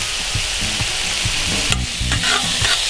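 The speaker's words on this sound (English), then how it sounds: "Stir it up some." Beer cheese soup being stirred in a pot, a loud close sizzling hiss with a series of short scraping and knocking strokes from the spoon, plus one sharp clatter midway.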